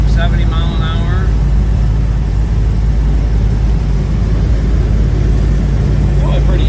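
A 1969 Chevelle SS 396 with a full restoration cruises down the road at about 70 mph, its engine and road noise forming a loud, constant low rumble inside the car.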